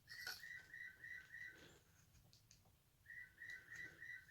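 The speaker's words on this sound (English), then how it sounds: "I don't know what that bird is." An unidentified songbird sings in springtime, a faint series of clear, evenly spaced whistled notes in two short bursts separated by a pause, with quiet outdoor background and a few soft knocks.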